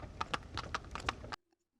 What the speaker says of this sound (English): It is produced by a horse-driven cart.